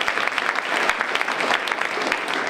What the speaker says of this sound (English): Just give her another round of applause.